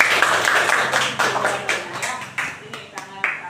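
Close rhythmic hand clapping from a group during a floor gymnastics forward roll lesson, sharp regular claps about every third of a second, with a voice talking over them.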